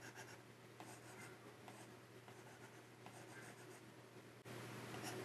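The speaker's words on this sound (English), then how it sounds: "With markup mode, I can use the Apple Pencil to draw on my model." An Apple Pencil tip scratches and taps across an iPad screen while drawing in markup mode, faint quick strokes in a quiet room.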